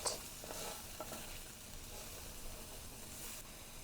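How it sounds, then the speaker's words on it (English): Chicken tortilla soup ingredients sautéing in a pan until soft, a faint steady sizzle with light stirring scrapes, no voices over it. "We're going to saute this just till it gets soft."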